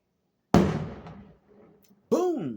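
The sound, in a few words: fireworks exploding outside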